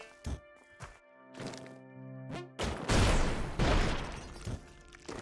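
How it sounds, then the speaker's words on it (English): Explosions in the video game Spelunky 2, with sharp thuds and thwacks followed by a loud, sustained burst of crashing blasts over chiptune-like game tones, fairly close and without talk. "Explosions."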